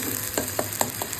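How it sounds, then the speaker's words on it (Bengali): Pointed gourd peel paste being stirred in a pan, with a steady soft sizzle and a few short scraping strokes, close and fairly quiet, no voices. "ভালো করে এটাকে নাড়াচাড়া করব আমরা"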